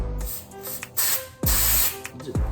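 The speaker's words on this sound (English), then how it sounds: "I will make sure that I spray the connector with some electronics cleaner." Electronics cleaner sprays from an aerosol can onto the fog light connector of a Mercedes W211 E63 AMG in three loud, close hissing bursts, with clicks and handling noise between them.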